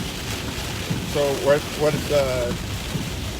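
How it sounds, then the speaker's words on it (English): Heavy rain and gusting wind during a tornado-warned thunderstorm in Arkansas, heard as a constant noisy wash under a man's brief speech, with wind buffeting the microphone. "we're getting a lot of the lightning and experiencing the heavy rain and the winds"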